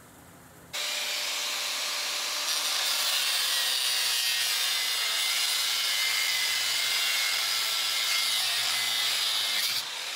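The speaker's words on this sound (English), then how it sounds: "I'm gonna go ahead and hit the grinder right there." An angle grinder cuts through a steel truck frame with a loud, steady high-pitched hiss and screech that runs unbroken for about nine seconds before stopping, with no voices.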